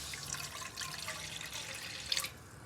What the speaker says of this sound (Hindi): अब सबसे पहले हम डालेंगे इसमें पानी।